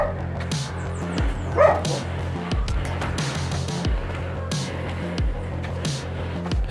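Repeated dog barks ring out at a moderate distance in an alley of the Gamboa de Baixo community over a steady low engine drone, roughly one bark every second.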